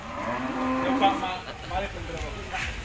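Cattle low at a livestock contest among Lumajang-type cattle. The mooing sits under a busy crowd din with some voices.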